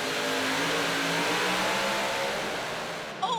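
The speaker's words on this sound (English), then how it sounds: "You can hear those engines really rev up quickly" Super modified pulling tractors at a charity tractor pull roar loudly and continuously, their engines rising in pitch as they rev, with a brief clunk near the end as the sound drops.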